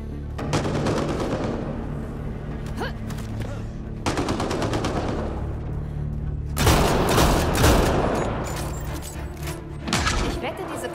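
Gunfire in the video game Mass Effect Andromeda on Xbox One X: rapid automatic bursts and heavy thumping shots come in several loud volleys, with booming impacts and character voices mixed into the combat.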